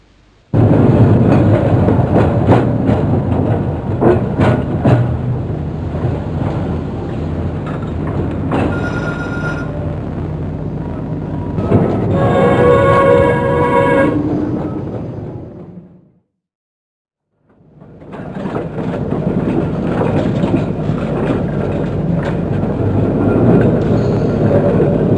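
A Blackpool tram, one of the boat trams, runs along the rails toward the tower in 1985, a steady rumble of wheels and motor with brief squeals and clanks, falling silent for a moment before another pass.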